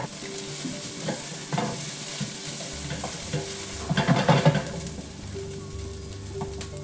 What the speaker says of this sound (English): we're going to put our tomato paste in and kind of let that brown almost blacken up